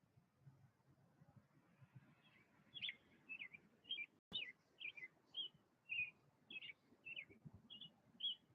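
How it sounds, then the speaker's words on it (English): Small birds chirp and tweet outdoors in a steady run of short, bright calls, fairly close and clear over a low background hum, with no one talking. "Can you guys hear the birds?"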